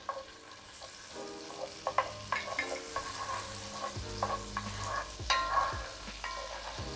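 A heaping spoonful of minced garlic sizzles in a frying pan for Korean corn cheese with shrimp. The quiet frying is broken by clinks and scrapes of stirring, with a faint tonal hum underneath.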